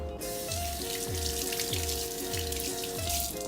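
Two limes rinsed under a running kitchen tap, a steady close hiss of flowing water over a low rhythmic hum, with no talk.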